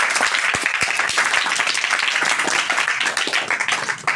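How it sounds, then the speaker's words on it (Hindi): Children in a general knowledge class break into steady applause, a dense patter of many hands clapping together close by that fades slightly toward the end. "तालियां हो जाएं बच्चों को।"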